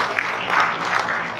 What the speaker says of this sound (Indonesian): kita beri tepuk tangan yang luar biasa untuk para pemateri